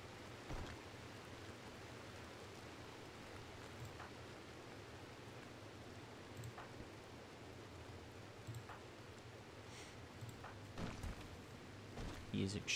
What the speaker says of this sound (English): The rain have cleaned it up.